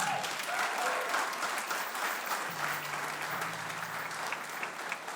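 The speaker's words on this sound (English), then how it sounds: "So give Lane a round of applause." Audience applause at a spring band concert for a student honored for the WSMA State Honors Band, a steady wash of many hands clapping that holds evenly throughout.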